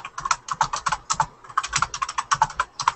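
Quick, steady keystrokes on a computer keyboard during a gaming session, a continuous run of close, crisp clicks in an uneven rhythm, heard alone without any voices.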